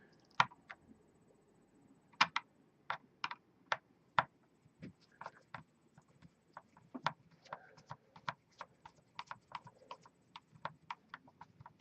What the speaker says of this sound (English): Now we take the screws out of the front of the bulkhead.